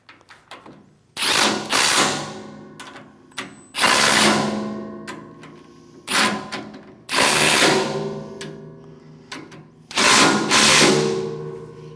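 Carriage bolts and nylock nuts are tightened into UHMW plastic on a MUSKOX snowblower during a fan replacement, with a power driver buzzing in several short bursts and brief pauses between them, close up and with no talking.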